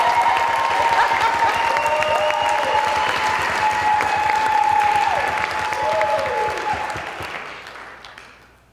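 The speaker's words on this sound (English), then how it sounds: "as the last speaker of the night, huge round of applause for Shawna Urbanski." Warm, sustained audience applause after the final speaker at an Ignite Denver talk night, a dense crowd clapping for several seconds before gradually fading out.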